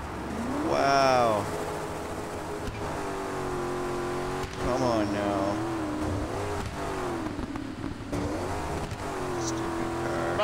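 A rally car engine in the racing game Dakar 18 revs and whines through rising and falling pitch sweeps while driving over desert dunes, loud and continuous, with someone talking briefly over it.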